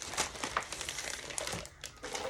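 Paper, cut to 8.5 by 14 inch sheets, is handled close by with a steady run of crisp crinkling and rustling. The sound dips briefly near the end before resuming.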